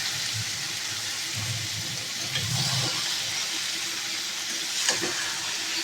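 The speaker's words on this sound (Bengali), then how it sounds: "আমি কিন্তু বাঁধাকপিটা সিদ্ধ করে নিই" Cabbage simmering in a pot on a home kitchen stove gives a steady, moderately loud bubbling and sizzling wash, with a few soft stirring knocks and a brief clink near the end.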